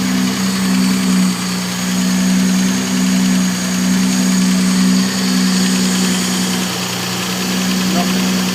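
An engine with balanced carburettors runs at a steady idle, giving an even, loud, close hum with a constant low drone throughout.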